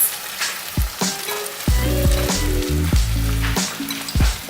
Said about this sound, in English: Now I'm going to add in some carrots.